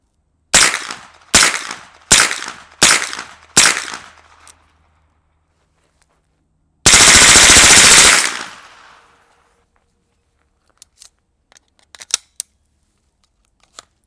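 A suppressed Colt 9mm AR-15 fitted with a BOE Incolyte 9 fires supersonic rounds outdoors: five sharp, evenly spaced cracks, a pause, then a longer rapid burst, followed by faint scattered clinks of falling brass.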